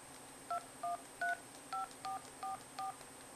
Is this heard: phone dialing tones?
yes